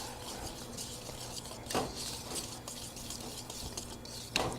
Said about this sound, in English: You're going to whisk all that together.